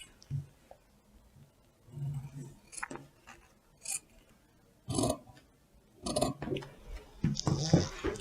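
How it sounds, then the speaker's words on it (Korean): Scissors cut out a pattern shape from folded material in a series of irregular, crisp snipping and rustling bursts with quiet gaps between them, fairly close and moderately soft. "이대로 모양대로 이 모양을 잘라줍니다"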